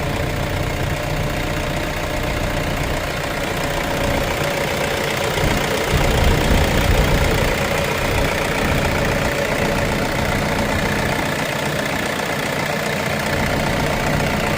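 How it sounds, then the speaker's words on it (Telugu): A Toyota Innova engine idles steadily and loudly up close, with a brief surge in the low rumble around the middle before it settles back to an even idle. "సో ఇంజిన్ సౌండ్ అయితే గమనించవచ్చు మీరు."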